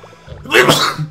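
A single close, sharp sneeze bursts out after a short intake of breath.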